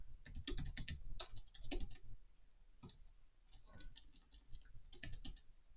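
Code being typed on a computer keyboard, with bursts of close clicking keystrokes separated by brief pauses and a quieter stretch in the middle.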